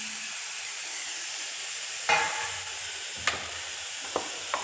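Chopped onions sizzle steadily in a hot pan for a homestyle fish curry, a constant frying hiss broken by a few sharp clinks of a spoon against the pan.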